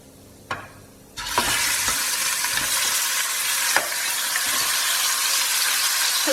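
Lamb pieces hit a hot pan of oil with cumin seeds and asafoetida for rogan josh, bursting into a loud sustained sizzle after a quieter start, punctuated by occasional spatula clanks and stirring scrapes.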